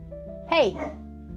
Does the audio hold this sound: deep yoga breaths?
no